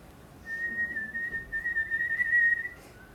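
A person whistles one long, sustained tone with a rapid trill wavering through it, close and clear, running about two seconds and then stopping, with no talking.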